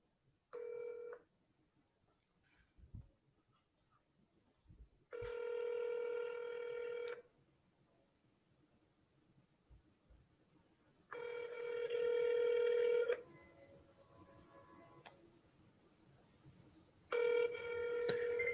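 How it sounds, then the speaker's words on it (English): Phone line ringback during an outgoing cold call, four long tone bursts separated by pauses of silence, each burst a few seconds long, fairly close and clear with faint clicks between. "I'm calling them on a different phone number right now."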